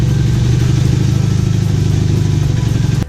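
A Kawasaki KZ400 motorcycle engine started for the first time in two years, running steadily at a loud, close, throbbing idle with a rapid even pulse, then cutting off abruptly at the end.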